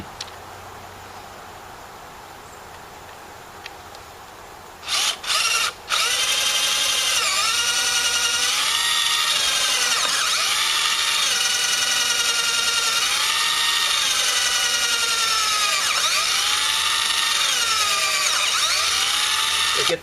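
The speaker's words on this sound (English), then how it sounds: "if you don't, the drill won't do the job." A power drill bores into the rotted wood of a picnic table, starting with a few short bursts before settling into a long, loud continuous whine with slight dips in pitch as the bit cuts.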